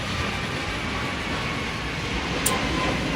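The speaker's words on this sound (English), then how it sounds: "we finally get on the train" An airport shuttle train rumbles steadily from inside a moving car, a constant broadband roar with no voices.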